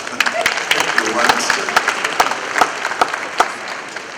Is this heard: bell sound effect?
no